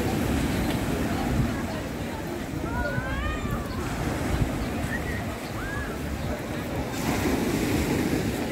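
Stormy sea surf pounds a central beach at Arkhipo-Osipovka during a sudden storm, a dense continuous roar of waves with strong wind buffeting the microphone, and faint voices talking beneath.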